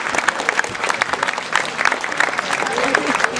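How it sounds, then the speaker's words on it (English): Lively audience applause for a whistling performer at an animal park show, dense, close and steady clapping with sharp individual claps standing out throughout. "Certainly happy to see you applaud for his whistling."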